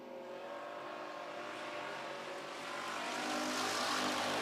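Race cars lap a racetrack with a steady, broadband engine roar that builds and grows louder toward the end as the cars draw nearer, with no talk over it.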